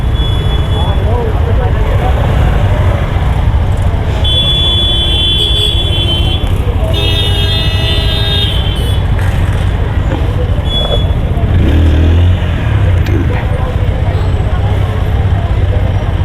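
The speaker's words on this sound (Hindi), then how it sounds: "भाई ट्रैफिक लग गया भयंकर दुनिया भर का" Heavy traffic jam on Mussoorie's Mall Road, a dense, loud rumble of engines with brief high horn blasts near the middle and voices mixed in.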